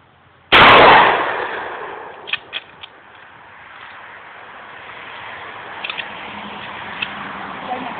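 A Rock Island Armory 12 gauge pump shotgun fires one loud, booming shot outdoors, followed by a long fading echo and faint clicks and handling noises afterward.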